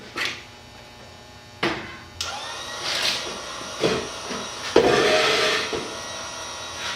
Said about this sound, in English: turn on my little grinder